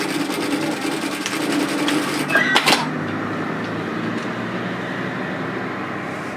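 A sewing machine runs a steady straight line of stitching on darts for a puff sleeve top, a continuous mechanical whir with a brief sharp clatter partway through before settling back to the even hum.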